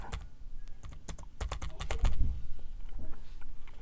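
A computer keyboard clacks as a book title is typed, with rapid, uneven bursts of close keystrokes followed by a few scattered taps.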